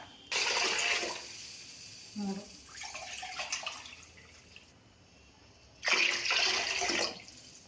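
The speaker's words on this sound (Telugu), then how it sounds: "నాలుగు కోపు గిన్నెలతో వాటర్ వేసుకోవాలి" Water splashes and pours into a pot of rice in two bursts, a longer one at the start and another near the end, with a brief low gurgle between.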